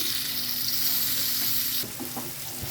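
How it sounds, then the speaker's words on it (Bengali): Onions sizzle steadily in hot oil in a pan, a dense frying hiss that runs throughout, with a few soft scraping stirs near the end as the pieces are turned. "পেঁয়াজগুলোকে নেড়ে ছেড়ে দিচ্ছি আর এগুলোকে আমি হালকা গোল্ডেন কালার করে ভেজে নিব"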